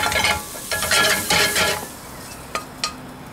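Ingredients for Indian-style lamb wraps dry frying in a hot pan, a bright crackling sizzle with stirring scrapes for the first half, then fading to a quieter hiss broken by two sharp clinks near the end.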